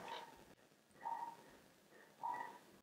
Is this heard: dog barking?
yes